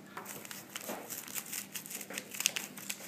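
Scissors snipping through soft, crinkly tulle fabric to shape it into a point for a handmade flower, a close, continuous rustle with small crisp cuts and no talking.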